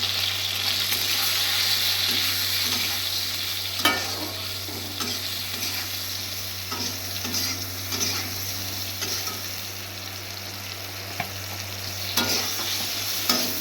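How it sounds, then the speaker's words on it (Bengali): Pointed gourd pieces with salt and turmeric fry in oil, a constant crackling sizzle punctuated by regular scraping stirs and spatula knocks against the pan, close up with no talking. "বন্ধুরা এরকম আমার পটলটা ভাজা হয়েছে"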